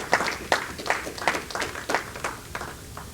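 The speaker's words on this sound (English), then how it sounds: "Could you give them a round of applause" Guests at a credit union consultation held with the Ministry of Labour applaud in a series of distinct, fairly regular claps, moderately loud and close, with a steady rhythm and no talking.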